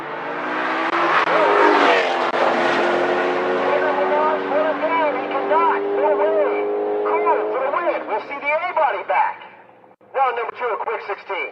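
A 1972 Pontiac Le Mans drag car runs loudly at a drag strip, its engine note rising and shifting through gears over roughly ten seconds under a continuous announcer voice, then briefly cutting off before resuming.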